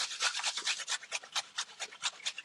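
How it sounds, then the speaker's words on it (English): Unpeeled carrots rubbed against a grater in quick rhythmic rasping strokes, close and clear, about a dozen scrapes with no talking. "when I cook with carrots, I don't ever peel them. I just grate."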